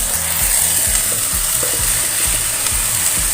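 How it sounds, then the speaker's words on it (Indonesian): Mixed vegetables sautéing in a pan with a pinch of white sugar are stirred slowly, giving a steady close sizzle with regular scraping strokes of the spoon and no talk. "Lalu perlahan kita aduk."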